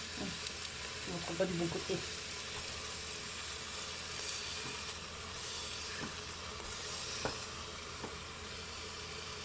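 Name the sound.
beef searing in a Cookeo cooker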